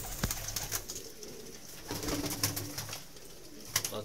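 Pigeons cooing in Faisalabad, soft repeated low coos from several birds at moderate distance over a faint noisy background, with a sharp knock or flutter near the start and end.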